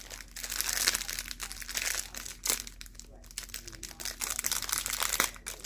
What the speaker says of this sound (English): so if you can't stand the crinkling, give me about 30 seconds and we'll be done and over